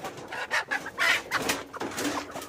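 Chickens clucking nearby, a quick run of short, bursty clucks and squawks, fairly close and lively.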